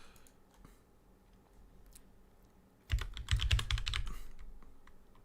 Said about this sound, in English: typing up Serete sucks